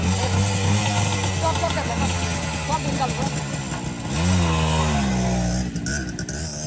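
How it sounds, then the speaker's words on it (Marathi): A motorcycle with a failed spark plug is push-started in gear with the clutch and catches, its engine droning steadily and revving up midway. Several people talk loudly over it throughout. "गाडी स्टार्ट करून झाली तर झाली"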